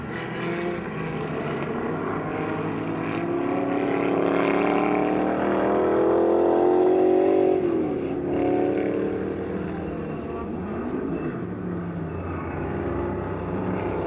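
A 1959 Troutman Barnes Special sports racing car at a vintage race festival, its engine droning loud and steady as it rises and falls through gear changes while passing close by, with no talk.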